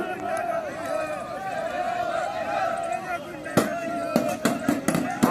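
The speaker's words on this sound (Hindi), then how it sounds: "बलवाइयों द्वारा काफी पथराव किया जा रहा है लाठी पार्टी पे" During a police riot-control drill in Bareilly, stones thrown by mock rioters strike a baton squad: sharp irregular clattering impacts, several in quick succession, over a steady murmur of crowd noise.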